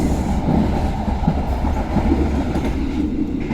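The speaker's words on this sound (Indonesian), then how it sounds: "Berhenti di stasiun Malioboro kereta api Pasundan masuk di jalur nomor 3" An economy-class Pasundan passenger train rolls into Malioboro station on track 3, a steady, loud, close rumble of wheels and carriages with no break for the whole stretch.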